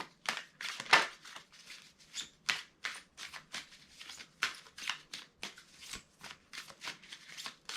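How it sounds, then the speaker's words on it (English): Tarot cards are shuffled by hand up close. Quick riffling and sliding bursts repeat in an irregular rhythm, with soft pauses between them. "Okay, so I just like to shuffle on screen because it gives me a chance to tune in to the energy"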